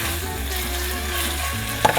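Boneless chicken with garlic cooks in a pan over a medium-high flame, giving a steady close sizzle that ends in a brief clink of a utensil.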